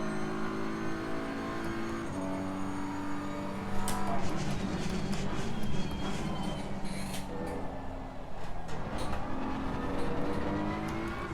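Race car accelerating at Laguna Seca with traction control cutting in: engine note rising in steady pitch, then a rougher, stuttering stretch of interrupted power, loud and close from onboard, with no talk.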